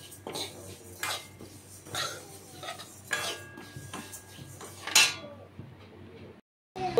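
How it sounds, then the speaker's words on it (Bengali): Young bottle gourd goes into mung dal in a pot, with scattered clinks and scrapes of metal utensils against cookware, then a brief silence before a final knock. "ডালের মধ্যে দেবো লাউটা।"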